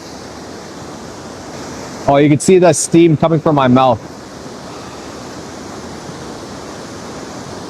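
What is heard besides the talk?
waterfall flowing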